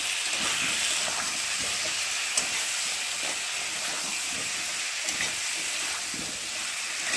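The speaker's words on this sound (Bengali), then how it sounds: "যতক্ষণ না মশলাটা কাঁচা গন্ধ যাবে ততক্ষণ মশলাটা আমি কষিয়ে নেব তেলের মধ্যে" A spice paste of ground onion, cumin, ginger and garlic with chopped tomato fries in hot oil, giving a continuous close sizzle and hiss with occasional faint stirring clicks.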